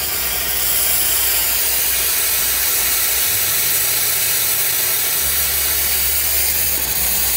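Water hissing into steam as it hits hot, freshly welded cast iron, a loud, steady hiss that runs unbroken for the whole stretch over a low machine hum.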